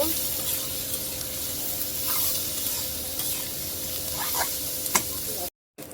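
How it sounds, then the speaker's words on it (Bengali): Onions frying in oil with a little salt in a pan for an egg bhuna, giving a steady soft sizzle with faint stirring scrapes throughout, then a brief drop to silence near the end. "পেঁয়াজ ভাজা হয়ে গেছে"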